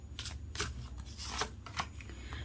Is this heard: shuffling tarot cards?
yes